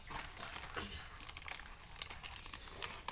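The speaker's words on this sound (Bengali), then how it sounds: "এখন প্যাকেটটা আমরা খুলছি" A plastic packet of Bonful lachha semai is torn open. Close, continuous crinkling and crackling of the wrapper fills the moment, with no talking.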